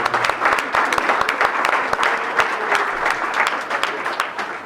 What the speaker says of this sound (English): I hope that we'll give them a very warm round of applause